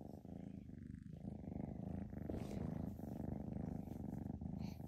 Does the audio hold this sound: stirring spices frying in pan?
no